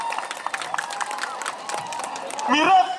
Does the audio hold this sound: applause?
yes